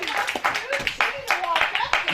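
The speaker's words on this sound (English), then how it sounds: "Right, some applause." Clapping from a small audience at a heavy metal television anniversary party and awards show, irregular claps mixed with voices and background chatter.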